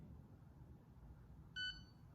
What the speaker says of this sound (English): it'll beep here in a second